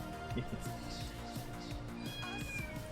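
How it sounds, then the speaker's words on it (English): A little kitten meowing indoors during a relaxed painting session, several short meows scattered across the moment amid soft room sounds and light background noise. "Hey, little kitten is back. Meow, for you too."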